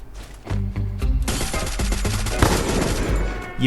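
Gunfire from a gun in a shooting video game, a few single shots followed by a dense rapid burst of loud, close automatic fire that continues to the end.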